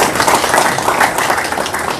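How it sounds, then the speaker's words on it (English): Applause at an American Legion post monthly meeting, a dense, even wash of many hands clapping throughout, fairly loud and close. "let's give them a round of applause"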